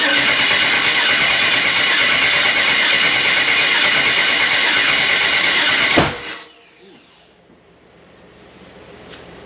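Freshly rebuilt car engine, turned over for the first time, runs with a dense, loud roar for several seconds, then shuts off abruptly, leaving only faint background noise.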